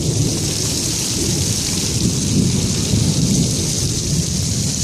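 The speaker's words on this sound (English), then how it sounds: "As you can see, it's raining really hard." Heavy rain pours down during a thunderstorm, a loud, constant roar of drops hitting surfaces with deep low rumbling beneath it, unbroken and with no one speaking.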